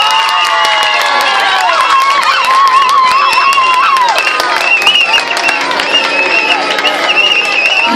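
A shopping-plaza crowd at a dog costume contest applauds and cheers for a dog dressed as Minions, steady clapping and shouting throughout with a host's voice over it.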